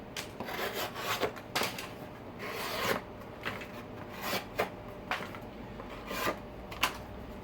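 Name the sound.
Spyderco Endura 4 knife slicing cardboard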